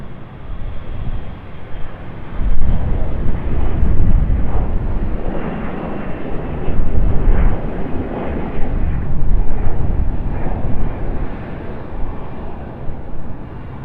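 A Southwest airliner taxiing toward the runway at Raleigh-Durham airport, heard as a loud, broad, steady engine rumble that swells and eases gently for the whole stretch.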